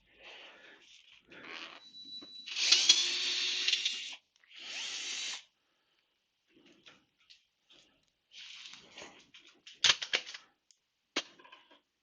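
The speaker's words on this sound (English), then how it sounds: "Or maybe I'll undo this screw and just get this out of the way." A power tool undoes a Torx screw on a BMW R1200GS motorcycle, with short bursts of whirring and several pauses between them, close and fairly quiet, followed by clicks and clatter.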